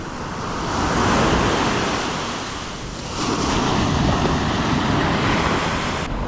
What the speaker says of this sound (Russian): но на море сейчас очень большие волны